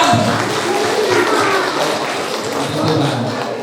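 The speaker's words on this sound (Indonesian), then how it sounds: "Tepuk tangan buat Tuhan." Church congregation clapping together at a wedding-custom gathering, a steady dense patter of many hands filling the room, loud and continuous, with voices mixed in.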